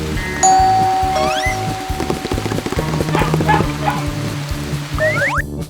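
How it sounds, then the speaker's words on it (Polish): A doorbell rings out a bright ding-dong chime, followed by cartoonish effects and rain pattering in the background. "Jason, dzwoń, dzwoń!"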